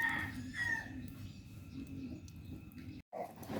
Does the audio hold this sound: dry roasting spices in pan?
no